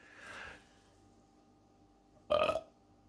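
A single loud, close burp of about a quarter second rises out of quiet, after a faint breathy sound near the start.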